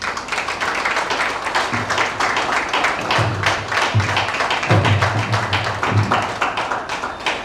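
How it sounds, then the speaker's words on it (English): A conference audience applauds after a speech about media influence, with dense, sustained clapping from many hands filling the hall at a steady level for several seconds, with a few louder claps standing out near the front. "A big round of applause for him once again, please."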